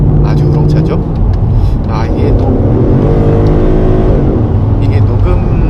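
Inside a 2015 Ford Mustang GT, the tuned exhaust rumbles loudly into the cabin, a steady deep drone with a rising pull partway through, while someone talks over it.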